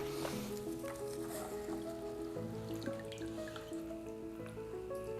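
Water drips and trickles off a pyracantha tree and its roots just lifted from a soaking bath, a soft, close patter of irregular drops.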